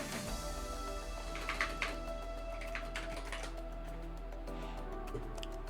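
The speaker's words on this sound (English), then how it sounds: "So we'll just type in autopilot." Fast, light clicking of a computer keyboard being typed on, a short run of keystrokes close by over a low steady hum, with no talking.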